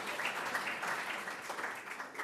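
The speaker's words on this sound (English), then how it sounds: "Well, you can applaud for Fadi if you'd like." An audience at a university research prize and medal ceremony claps steadily through the moment, heard from a distance and fairly faint.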